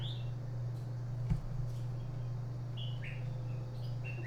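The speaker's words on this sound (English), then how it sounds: "there is a nest right outside my window of little baby birds." Baby birds in a nest outside a window chirp in short, high, scattered tweets at a distance, heard over a steady low electrical hum.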